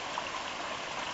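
Water from a natural spring feeding Honey Creek, a Guadalupe tributary running well below normal flow, makes a steady, soft rushing trickle that continues without pause.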